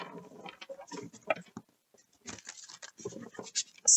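A deck of oracle cards being shuffled up close, soft quiet bursts of riffling and patting paper that start and stop in irregular runs with brief pauses between.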